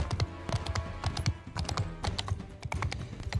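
Horse hooves pound in a fast, steady galloping rhythm in the Mount and Blade II: Bannerlord video game, loud and close, with clattering battle noise mixed in and no talking.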